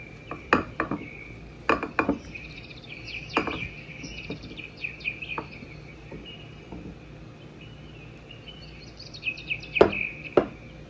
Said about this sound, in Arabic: طبعا بنقلبها بالراحه